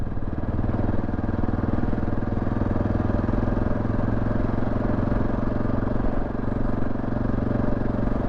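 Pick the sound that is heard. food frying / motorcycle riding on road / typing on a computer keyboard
motorcycle riding on road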